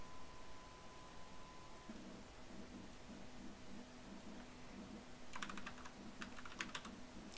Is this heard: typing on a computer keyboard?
yes